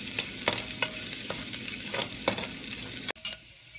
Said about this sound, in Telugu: సన్నగా కట్ చేసిన ఉల్లిపాయలు, సన్నగా కట్ చేసిన పచ్చిమిర్చి వీటిని వేసి కొద్దిగా వేగనివ్వండి